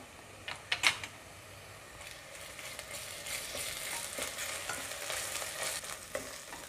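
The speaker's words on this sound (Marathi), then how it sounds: "आता आपण त्यामध्ये आलं लसणाची पेस्ट घालूया आणि पुन्हा छान परतून घेऊया।" Browned onion and ginger-garlic paste sizzle steadily in a pan for a mutton curry, with a few sharp utensil clicks at the start and then continuous close frying and stirring.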